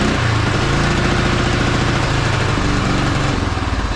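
A 1974 Honda XL250 motorcycle engine running badly and loading up, a loud, steady, rough single-cylinder drone with uneven pulsing and a slight sag near the end.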